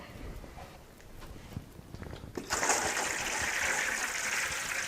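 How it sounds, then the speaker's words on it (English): Water poured from above into trays of radish microgreens, a steady broadband splashing gush that starts abruptly midway and continues, close and fairly loud. "Dump some water in there."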